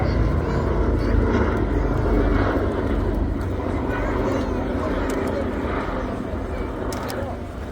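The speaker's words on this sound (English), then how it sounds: "So the aircraft now on its final approach to land." A B-17 bomber's propeller engines drone steadily nearby on final approach to land, the rumble holding strong and then easing slightly as it descends.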